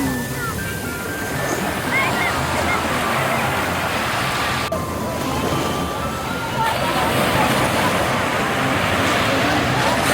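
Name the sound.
sea waves at Cherai Beach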